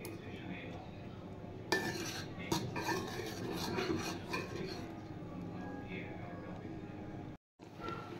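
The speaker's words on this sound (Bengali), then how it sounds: "এবার দিয়ে দিচ্ছি কিশমিশ।" Raisins go into a pot of payesh, a sweet Bengali rice pudding, and a spoon stirs and scrapes against the pan with clinks of utensils, close and steady, under a voice.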